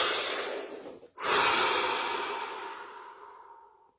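A single deep breath in the middle of a guided stillness session: a long airy exhale, a brief pause, then a strong inhalation that fades slowly over several seconds, close and clear with no talking.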